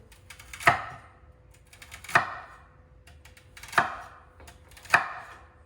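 A kitchen knife chops vegetables for a Cajun cornbread stuffing, four sharp, evenly spaced thuds against a board, close and crisp with quiet gaps between them.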